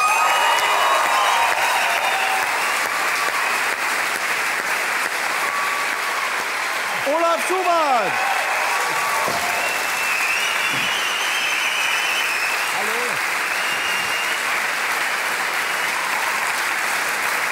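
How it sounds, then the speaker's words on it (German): Studio audience at a German late-night talk show breaks into steady, sustained applause welcoming comedian Olaf Schubert, a dense wash of clapping filling the room throughout while a voice calls out briefly over it. "Begrüßen Sie mit einem großen Applaus Olaf Schubert."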